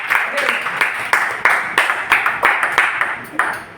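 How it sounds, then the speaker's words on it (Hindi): Loud applause for a speaker at a property business training session: many people clap in a strong, rhythmic pulse of sharp, evenly spaced claps that carry on at full volume for several seconds. "पांडा जी के लिए जोरदार तालियां बजाइए"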